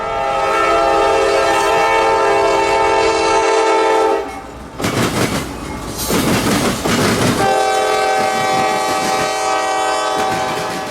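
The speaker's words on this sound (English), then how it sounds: "Two CSX GEs leading a train of open sand hoppers, jumbo covered hoppers, and jumbo aggregate hoppers northward toward Jacksonville" Two CSX GE locomotives lead a freight of open sand hoppers, jumbo covered hoppers and jumbo aggregate hoppers near a rail diamond at Cottondale; a loud, sustained multi-tone horn blasts, breaks for a few seconds of rumbling and clatter, then sounds again.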